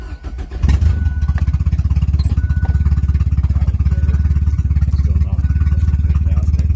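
Car engine fresh off a DIYPNP ECU tune, running loud and close with a steady low throbbing firing rhythm after a brief clattery start, holding above idle rather than settling down.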